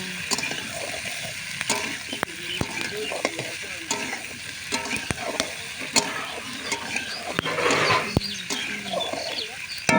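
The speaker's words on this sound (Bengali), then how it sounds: "এটা এখন আমি ভালো করে ভাজা করে নিয়েছি" Food with potatoes frying in a pan while being stirred, steady sizzle broken by repeated scraping clicks of the utensil, with faint birds or chickens in the background.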